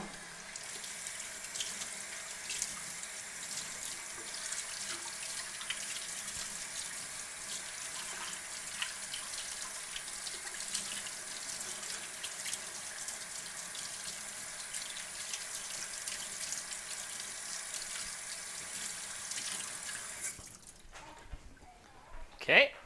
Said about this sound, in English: Okay, let's wash them one more time.